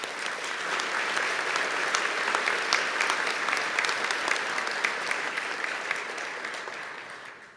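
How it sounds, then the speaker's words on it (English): An audience gives a round of applause after a brass sextet with tuba, trombone and trumpet at an investiture ceremony, a full, steady crowd clapping with crisp individual claps standing out, fading away at the end. "Please give them a round of applause."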